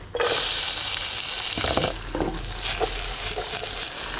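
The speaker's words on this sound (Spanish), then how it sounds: "Por el otro lado vamos a saltear cebolla." Onion sautéing in a pan gives a bright, steady sizzling hiss, close and fairly loud. Occasional scraping and stirring clatters break through the frying.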